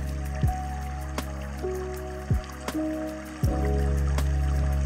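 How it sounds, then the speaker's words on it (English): Water bubbling and gurgling, a few distinct glugging pops with dripping, fairly close, over a steady low liquid rumble with no voices. "Listen to those bubbles"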